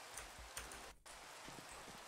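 Soft, steady rain falls in Minecraft, a faint continuous patter with a few brief ticks and one momentary dropout, heard alone without talk.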